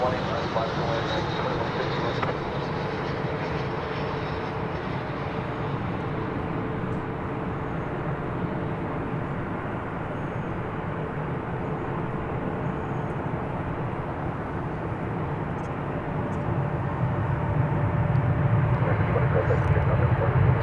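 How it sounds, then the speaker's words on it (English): Airbus A319 on the move at DFW Airport, a steady, moderately loud broad engine roar that builds toward the end, with a commentator speaking over it. "Flight 2377 from San Antonio, Texas is checking in. It's an Airbus A319."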